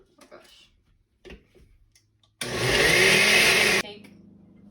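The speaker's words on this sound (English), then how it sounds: "we're just gonna shut it and start blending slowly" A kitchen blender purees potato pieces for krup kakar in one loud, steady whirring burst of about a second and a half. Quiet handling noises come before it, and the motor stops abruptly.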